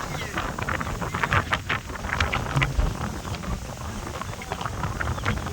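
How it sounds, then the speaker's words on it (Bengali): Strong wind buffets the microphone on a riverbank in the evening, a continuous rough roar with gusty surges throughout. "কত বাতাস"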